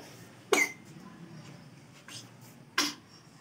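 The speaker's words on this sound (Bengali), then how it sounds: "এখনো ভালোই কাশিটা হচ্ছে।" A young child coughs on a balcony, two sharp, separate coughs a couple of seconds apart, close and fairly loud, with faint breathy sounds in between.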